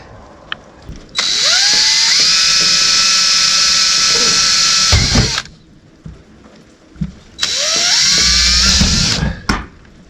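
A power drill bores mounting holes for a garage camera system, running in two sustained high-pitched whining bursts of about four and two seconds, each spinning up, holding steady and cutting off, with brief handling clicks between.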